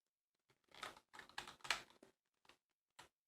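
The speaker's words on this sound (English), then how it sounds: "So we're just going to type reset." Keys on a computer keyboard clatter in quick close bursts of typing, broken by short pauses and a couple of lone taps at the end, with no voices.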